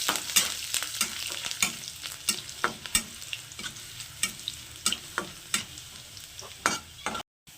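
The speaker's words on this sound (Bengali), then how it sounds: "আর দিয়ে দেবো একটু রসুন থেতো করা এটা একটু ভেজে নেবো লাল করে" Crushed garlic frying in hot oil with black cumin, a steady crackling sizzle broken by repeated sharp scrapes and taps of a spatula stirring the pan, close and fairly loud.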